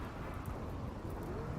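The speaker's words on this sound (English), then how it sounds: "Got a rainy thunderstorm." Steady rain hiss with a low, continuous thunderstorm rumble in the video game RimWorld, alone and fairly faint, with no voices.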